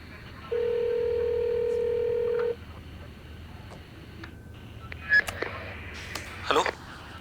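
A telephone gives one steady electronic ring tone lasting about two seconds, then falls silent, followed by faint clicks and a few soft handling noises.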